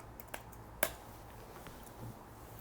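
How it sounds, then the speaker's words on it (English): A hand clap drum sample triggered in Ableton Live: a couple of short, dry, isolated clap hits, faint against a quiet background. "It's my hand clap."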